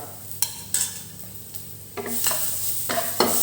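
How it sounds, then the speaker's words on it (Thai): Pounded garlic hitting hot oil and stir-fried with chillies, a sharp sizzle that swells as it goes in, punctuated by several close spatula scrapes against the pan. "ใส่กระเทียมที่โขลกลงไปครับ"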